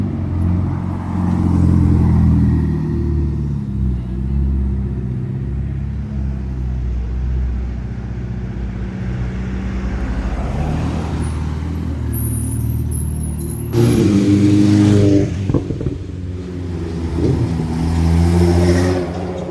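A white Jaguar F-Type's engine revs loudly and close, rising and falling through repeated surges, with a sharper high-pitched rev burst partway through and a deep rumble throughout.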